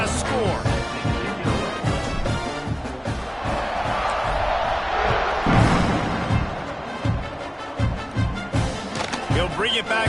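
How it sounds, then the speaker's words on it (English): A stadium crowd in the NCAA Dynasty football video game keeps up a steady buzzing roar with some cheering swells, partly under a commentator's voice. "this crowd is buzzing after that last score."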